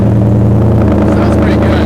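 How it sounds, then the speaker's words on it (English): Ford Mustang GT on its first cold start in a garage with a DIY side exit exhaust, a loud steady idle rumble with a deep low throb holding through the whole stretch. "let's see what a cold start sounds like with this side exit exhaust"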